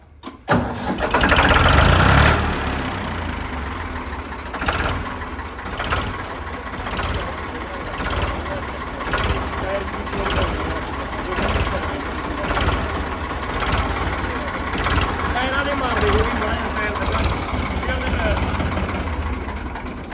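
A 1996 Farmtrac tractor with a new battery cranks and fires loudly, then settles into a steady, chugging diesel idle with regular pulses, while people talk nearby.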